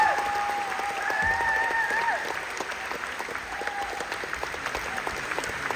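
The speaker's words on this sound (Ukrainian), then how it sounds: "Ваші оплески!" Audience applause at a concert, a dense steady wash of clapping from a crowd with tonal whistles or voices over it early on, moderately loud and continuous throughout.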